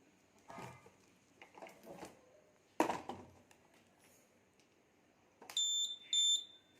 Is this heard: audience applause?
no